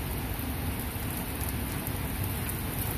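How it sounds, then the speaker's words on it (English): Rain falling on grass, a dense, steady hiss of drops across the whole range, close and continuous without pauses. "in the back, it's mostly raining on the grass"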